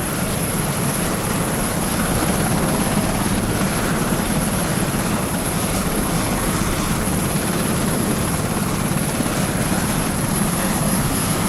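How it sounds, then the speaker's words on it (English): Steady, loud helicopter rotor thrum over the presidential inauguration in Washington holds without a break for the whole stretch, close and unchanging, with no other sound standing out. "the helicopter is definitely louder than"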